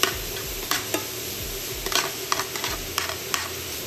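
Crab and shrimp fried rice sizzles in a hot pan under repeated stirring, with a steady frying hiss and a string of sharp utensil scrapes and clicks close by, without voices.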